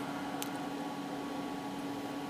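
Steady cooling fan hum from inside an HP 3325B function generator, a constant whirring drone with a faint tonal whine, continuous and close, with no talk.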